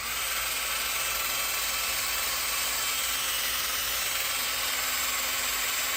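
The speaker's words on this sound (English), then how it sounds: "get my high dollar power tool on here." Loud, continuous whine of a power tool running steadily at close range, unbroken for the whole stretch.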